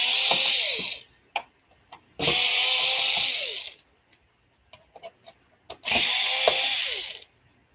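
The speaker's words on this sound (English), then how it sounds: "And it gets these little screws out of the bezel." A small electric screwdriver whirs in three buzzing bursts of about one to two seconds each, backing tiny screws out of the bezel of a Sony 55-inch LED TV, with light clicks and handling taps between runs.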